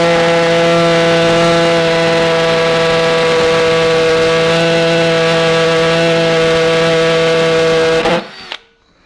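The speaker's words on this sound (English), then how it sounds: "Now I'm going to switch this drill over to hammer mode, and I'm going to drill over on this side" A hammer drill bores into brick with a loud, steady whine and rattle that runs continuously for about eight seconds, then stops abruptly as the bit winds down.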